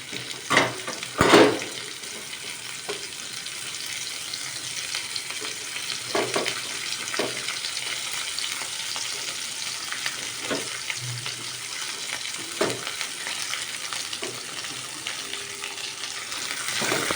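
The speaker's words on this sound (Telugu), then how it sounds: "ఆయిల్ వేడెక్కాక ఈ నల్లేరు కాడలను వేసుకోవాలి." Nalleru stems sizzling steadily in hot oil, a continuous close frying hiss with a few louder crackles and occasional stirring clinks throughout.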